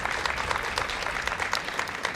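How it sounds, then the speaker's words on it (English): Applause from an audience honoring police officers at a community event, a dense, steady clatter of many clapping hands that holds evenly throughout at moderate loudness. "let's give them all a round of applause for the job they do for us every day"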